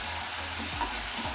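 Green chilli paste frying in hot oil in a pan, with a constant crackling sizzle and a few scraping stirs of a spoon, close and fairly loud with no speech.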